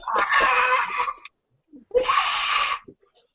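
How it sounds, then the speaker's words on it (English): Two long, harsh shrieks from a creature in the video game Infected, loud and close, separated by a short pause. "And then the shrieking starts again."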